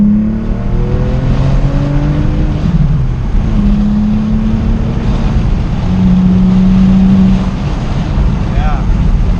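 A B5 Audi S4 with a twin-turbo engine accelerates hard from inside the cabin, its engine drone rising steadily in pitch through the gears, loud and close, with occupants talking over it.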